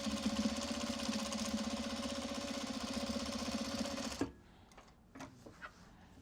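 Sewing machine running steadily while stitching the exterior top seam of a Japanese fabric box bag, a fast even mechanical whir for about four seconds that stops abruptly, followed by a few faint handling taps.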